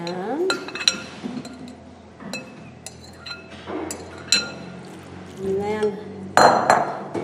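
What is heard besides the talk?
sunshine loaf batter put into a loaf pan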